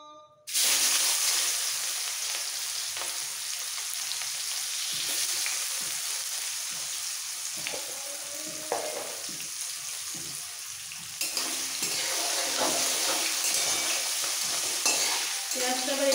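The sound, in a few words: chopped onion frying in a pan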